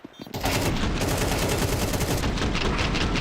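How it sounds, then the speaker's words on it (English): Gunfire from a Counter-Strike esports match at the BLAST Rivals Hong Kong semi-finals. Dense, continuous automatic shots start after a brief moment and stay loud and sustained to the end. "Good mow down here from Kixan"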